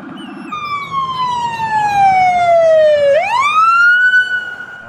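Toy police car siren, a loud close electronic wail that slowly falls in pitch then sweeps back up, preceded by a brief rapid warble, with no talking.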